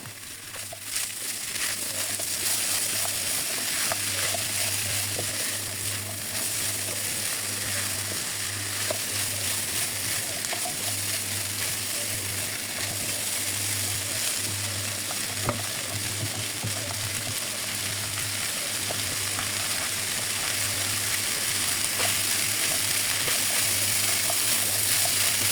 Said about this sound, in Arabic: هبتدي اقلب كل ده مع بعض عشان اتأكد ان التوابل اتوزعت كويس